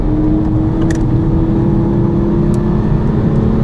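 A 2018 Volkswagen Polo GTI engine pulls hard under acceleration, a loud, steady droning roar with a sustained tonal whine that holds throughout, with no talking.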